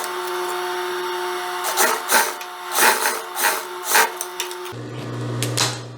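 A sewing machine stitches a seam on a wide-leg jumpsuit. Its motor hums steadily under a series of rhythmic, bursting stitch runs, and the pitch drops near the end.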